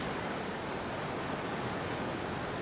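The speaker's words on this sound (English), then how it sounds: "The waves along here rise slowly and break fast." Ocean surf breaks on a beach in a dense, steady roar of wash and spray, close and loud, with no voices.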